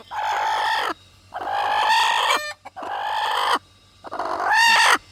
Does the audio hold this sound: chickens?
yes